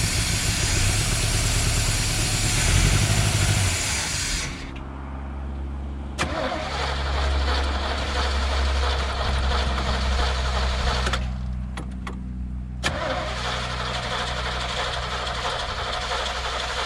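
Abandoned Chevy Vega with a 350 engine and four-speed, started by releasing the clutch: a loud mechanical churn, then the engine catches into a steady rumbling idle with brief sputters and dropouts, close and alone.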